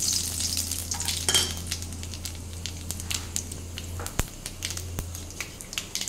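Potatoes and chopped onion frying in hot oil for a Bengali aloo posto dish, a steady sizzle with stirring clatter and a few sharp utensil knocks, fairly close with no talking.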